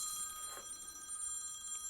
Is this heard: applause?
no